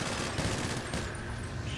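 Rapid gunfire in GTA Online's Beast vs. Slasher mode, dense overlapping bursts of shots, loud and continuous through the clip.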